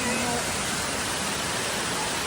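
Waterfall at a restaurant in Villa Escudero, Philippines, where diners eat beside the falling water: a steady, loud broadband rush of water that fills the scene without a break, close and constant.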